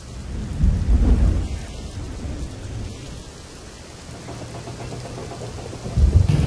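Heavy monsoon rain in Bhiloda, Aravalli, a dense continuous hiss with deep rumbling swells at the start and end, like distant thunder.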